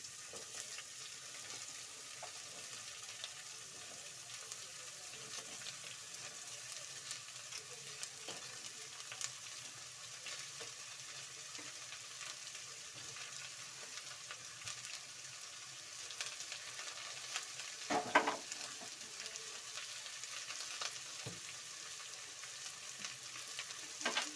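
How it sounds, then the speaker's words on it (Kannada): Cut mixed vegetables fry in a pan for a vegetable palya, making a soft, continuous sizzle with faint stirring and an occasional louder scrape. "ಈ ರೀತಿಯಾಗಿ ಫ್ರೈ ಆಗಿದೆ ಈಗ ವೆಜಿಟೇಬಲ್ಸ್ನ ಕಟ್ ಮಾಡ್ಕೊಂಡಿದ್ವಲ್ಲ ಅದನ್ನು ಸೇರಿಸ್ಕೊಳ್ಳಿ"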